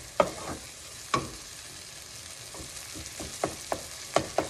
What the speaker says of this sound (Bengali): মশলাটাকে একটু ভালো করে কষিয়ে নিতে হবে।